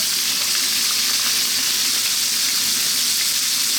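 Pork with onion, garlic, ginger and carrots stir-frying over high heat, a steady loud broadband sizzle that holds constant throughout, with no talking.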